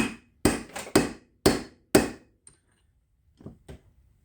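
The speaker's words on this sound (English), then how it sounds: "trusty hammer, just kind of tap on it and see if it moves." A hammer strikes a socket extension to drive a wrist pin out of a Case D engine. It lands as five sharp metallic blows in a quick uneven rhythm, then two fainter taps after a pause.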